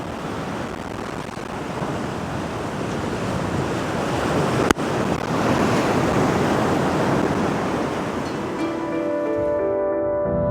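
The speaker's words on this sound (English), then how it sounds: "Yeah, some big waves are coming in." Big ocean waves break and roar steadily on a beach along the coast, a loud continuous surf wash with wind noise, one sharp click midway and a faint whine near the end.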